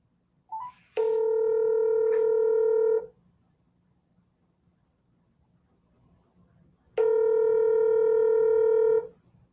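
Outgoing phone call ringback tone: two long, loud, steady electronic tone bursts of about two seconds each, separated by several seconds of near silence, with a brief blip before the first.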